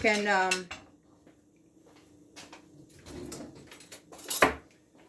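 A utensil stirs chuck shoulder roast and its juices in a plate, giving a few sparse, close clinks and scrapes against the dish after a short vocal sound at the start.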